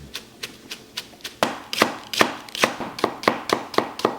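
A knife slices leek very thinly on a cutting board for soup. It makes a quick, even series of about sixteen crisp, close taps, with no speech.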